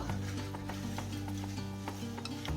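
Seasoned greens being stirred and mixed by hand for kimchi, a quiet, close rubbing and scraping with faint repeated ticks, no voices.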